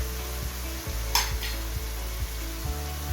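Chicken keema stirred in a frying pan, a spatula scraping the metal in steady strokes about twice a second over a continuous low sizzle, with one brief louder hiss midway.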